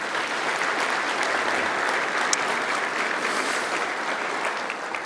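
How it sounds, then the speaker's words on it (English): A banquet audience at a Marine Corps Association awards dinner breaks into steady, dense applause, a full-room wash of clapping that holds evenly for several seconds with no voices above it. "just a round of applause, please"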